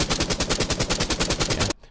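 Rapid-fire chaingun from the Doom video game, a loud burst of evenly spaced mechanical shots at a fast clip that cuts off abruptly, leaving a brief fading tail.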